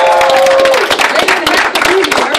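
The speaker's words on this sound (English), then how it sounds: "Let's give a round of applause one more time" A crowd's round of applause at a Wake Up Now event in Dallas, Texas: loud, continuous clapping with voices and cheering over it, plus a brief tonal sound near the start.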